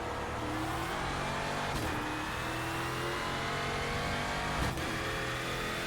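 EURO NASCAR V8GP car in iRacing under engine braking, a continuous throaty V8 roar with popping overrun and two sharp crackles, heard steadily throughout.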